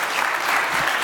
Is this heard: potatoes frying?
no